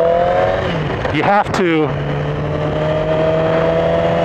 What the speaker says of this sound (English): You can rev the hell out of it.